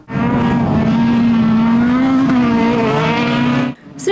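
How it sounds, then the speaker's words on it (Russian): Demolition derby cars race on a track, a loud continuous engine roar with a steady droning pitch that holds for several seconds before cutting off abruptly near the end. "Гул моторов, визг тормозов и море адреналина."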